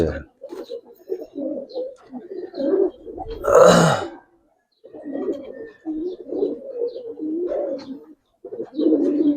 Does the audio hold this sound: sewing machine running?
no